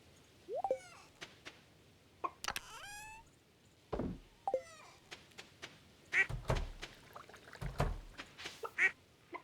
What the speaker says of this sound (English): Chickens, there's the duck.